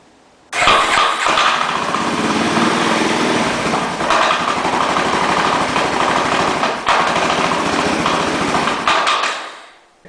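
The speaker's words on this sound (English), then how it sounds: "we got this Yamaha Big Bear here, and it's got a problem. And you can hear it here as soon as we start it" A faulty Yamaha Big Bear 350 ATV engine catches after a brief crank and runs loudly and close by, a rough, buzzy idle with uneven surges that continues for several seconds before fading out.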